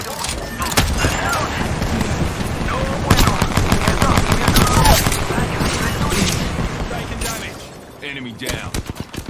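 Dense, loud automatic gunfire in Apex Legends, sustained rapid bursts over a busy battle mix that thin out near the end.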